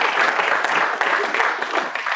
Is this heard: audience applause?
yes